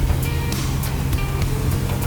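A 1990 Toyota Celsior engine idling steadily with the heater running, a constant low hum holding even and close throughout, with no talk over it.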